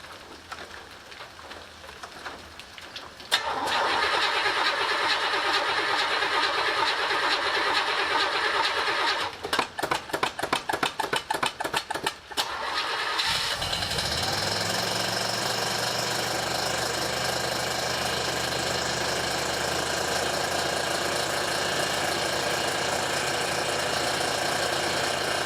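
A carbureted car engine, either a 1967 Buick or a 1976 Ford, running on a mistimed carburetor with steady noise like rain. It cranks in rapid rhythmic bursts, catches, then settles into a loud, continuous idle.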